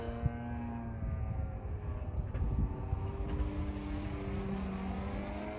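Engine of a giant scale 91-inch Extreme Flight Extra 300 V2 RC plane flying aerobatics, a steady distant drone with harmonic tones that rise and fall as the aircraft moves overhead, with no speech.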